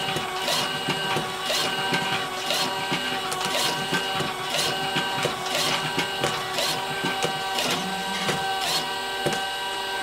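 An automatic labelling machine processes cartons and folding boxes with a steady mechanical whir, and regular rapid clicks and thumps repeat about twice a second, nearby and continuous.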